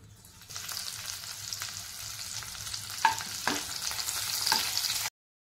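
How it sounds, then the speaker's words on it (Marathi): Finely chopped green chilies hit hot oil in a kadai, bursting into a loud, continuous sizzle after a quiet start, with a couple of clear utensil clinks as they are stirred, then cutting off abruptly. "तेल गरम झालं की त्यामध्ये टाकूयात बारीक चिरून घेतलेली हिरवी मिरची"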